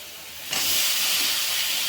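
Vegetables dropped into a hot pan of spiced curry burst into a loud, sudden sizzle that stays steady and close after a quiet start, with no talking.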